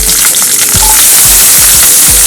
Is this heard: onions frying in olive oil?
yes